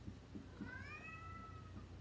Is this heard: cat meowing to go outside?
yes